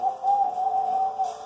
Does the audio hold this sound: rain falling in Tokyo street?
no